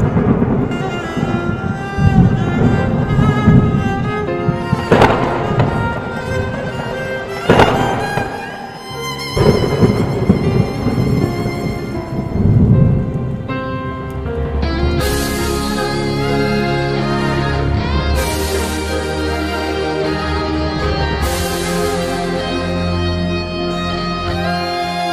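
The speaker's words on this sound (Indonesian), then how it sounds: "Sora guludug masih keneh disarada ngaguruh cahaya kilat pating" Continuous thunder rumbles and crackling lightning bursts roll over steady heavy rain, with sharp louder cracks near the start and later a dense hiss of downpour, used as an atmospheric effect in a Sundanese audio story.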